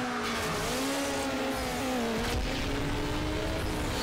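A rear-wheel-drive Honda S2000 corners in Need for Speed Underground. Its tires squeal in a wavering, sustained tone over a constant engine roar, loud and close for several seconds with no talk.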